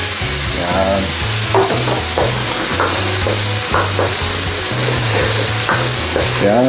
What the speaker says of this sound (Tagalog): simmer lang po natin siya hanggang lumapot ang ating sauce ng ating Mongolian beef